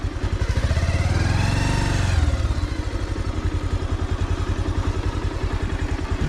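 A motorcycle on a ride from Vizag to Kondakarla idles close by as it is brought to a stop and parked, its engine thumping in a steady, even rhythm after a brief swell of revs at the start.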